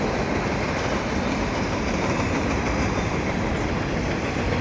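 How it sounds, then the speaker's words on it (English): A Canadian Pacific freight train of well cars, tankers and double stacks rumbles past close by, a steady loud roar of wheels and cars with faint clickety-clack, continuous throughout. "It looks like an empty well train here on a Sunday afternoon."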